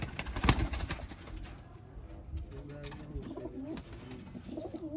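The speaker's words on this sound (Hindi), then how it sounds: "बटेरे सियालकोटी कबूतर" Sialkoti pigeons coo in soft, repeated throaty calls, heard close but fairly quiet, with some rustling and a brief sharp knock near the start.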